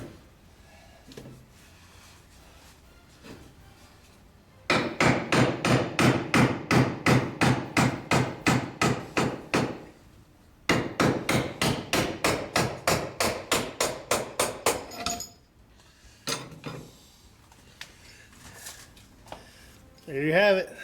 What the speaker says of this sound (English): We'll give it a few good taps, see if it's enough to just pull it out the rest of the way.